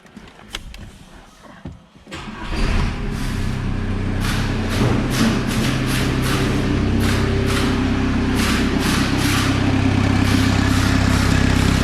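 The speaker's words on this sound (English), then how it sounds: "I'm going to start the engine like this to check if this pipe is working" An Audi A6 2.0 TDI diesel engine turns over and settles into a loud, steady idle with a rhythmic throbbing rumble and periodic exhaust puffs, after a few clunks and knocks.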